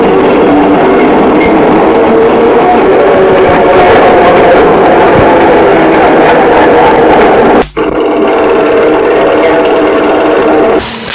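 The Hill of Howth tram near Dublin runs with a steady, loud rumble and rattle of wheels and car body, briefly dipping once before rolling on.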